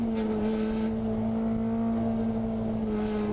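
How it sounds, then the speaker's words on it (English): F22 Mazda Miata race car lapping the Chuckwalla track in a Vtec Club round, its engine holding a loud, steady in-car drone with a sustained tonal whine over road and wind roar. "this is a fast car I'm driving here"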